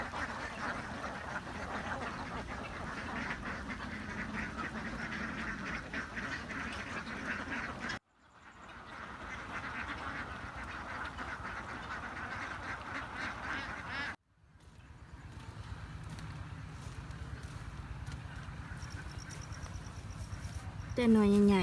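Ducks on a farm of about 1,500 laying ducks quack continuously in a dense, noisy flock, the chatter broken by two brief gaps, with a louder close call near the end.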